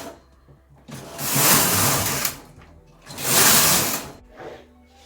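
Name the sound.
4.5mm standard knitting machine knitting a headband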